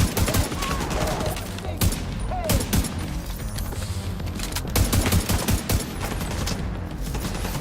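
Gunfire in The Division 2, a dense run of sharp shots and bursts with clattering mechanical noise, loud and close throughout, with brief voice underneath.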